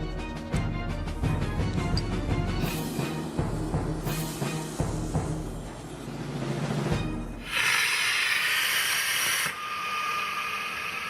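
An aircraft evacuation slide bag inflates from rocket gas boosted by compressed gas, giving a loud rushing hiss with rattling bursts that settles, then a bright sharp hissing gush near the end, with no talking.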